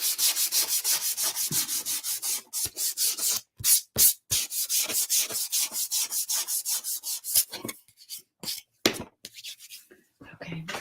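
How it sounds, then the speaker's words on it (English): Sandpaper rubbed briskly over a craft piece in steady, rhythmic back-and-forth strokes, close and fairly loud, broken by a few short pauses. "I'm just going to sand this a little bit."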